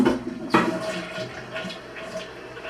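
A toilet flushes with a sudden surge of rushing water, then settles into a steady, close swirling and refilling sound.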